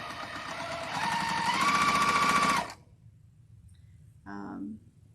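A sewing machine stitches a quilt block in a fast, steady whir that speeds up briefly, then stops, followed by a short second burst of stitching.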